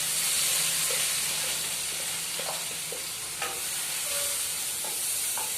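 Finely chopped onion, garlic and ginger fry in a pan with a steady, close hiss and sizzle, with a few soft stirring clicks scattered through and no talking.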